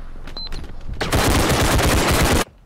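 Gunfire in the realistic first-person shooter game Bodycam: after a few quiet clicks and rustles, a loud, sustained rapid burst of automatic shots rattles for about a second and a half, then cuts off abruptly.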